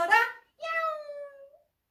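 A voice imitates a cat, giving a playful meow in two parts, a short chirpy start and then a longer drawn-out tone that falls away, close and clear during a kindergarten Sunday worship activity.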